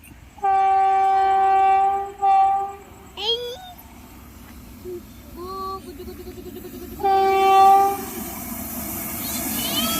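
A goods train passes on the rail line, sounding several long, loud horn blasts with a brief squeal between them over a low rolling rumble. People talk faintly in the background.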